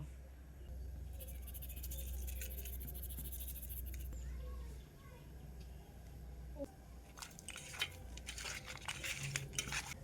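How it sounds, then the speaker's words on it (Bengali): Snakehead fish pieces rubbed with salt and turmeric in a metal bowl, giving soft scraping and clinking of fish against the dish, with louder bursts of rubbing near the end. "এখন শোল মাছগুলোকে নুন আর হলুদ দিয়ে ভালো করে মাখিয়ে নেব"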